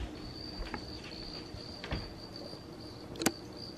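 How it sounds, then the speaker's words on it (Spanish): A cricket hidden somewhere in a kitchen gives a thin, continuous high trill that runs steadily throughout, fairly faint, broken by a few soft knocks and one sharper click near the end. "Yo creo que va a ser un grillo"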